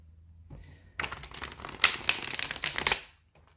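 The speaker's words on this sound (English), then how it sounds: "this is really quite smooth, this kind of shuffle as well" A Crow Tattoo tarot deck is riffle-shuffled, starting as faint handling, then breaking into a fast, dense burst of crisp card flutters and clicks that stops abruptly, leaving quiet.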